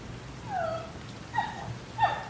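A dog gives a few soft, high whimpers and short yips, three separate faint cries spread over a couple of seconds against a quiet background.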